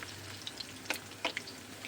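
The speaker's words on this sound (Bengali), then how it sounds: "হালকাভাবে অল্প তেলের ভেতরে এগুলো খুব ভালোভাবে ভেজে নেওয়া যাবে" Raw green banana pieces crackle as they shallow-fry in a little oil, a soft steady sizzle with a few sharp clinks and taps from a spoon in the pan.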